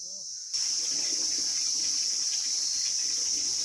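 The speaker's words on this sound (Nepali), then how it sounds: "यो चाहिँ हाम्रो तल्लो गाउँको धारा" Water gushes from a village spout near a temple, starting abruptly after a brief quiet moment and then running as a loud, steady hiss close by.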